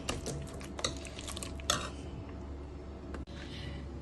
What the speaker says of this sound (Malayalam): നന്നായി ഇതൊന്ന് നമുക്ക് ഉടച്ചു കൊടുക്കാം.